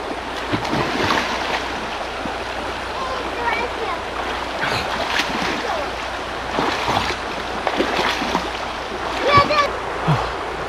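Stream water splashing at a forest campsite in Janda Baik, close uneven splashes and sloshing bursts over a constant flowing wash, with a voice talking intermittently.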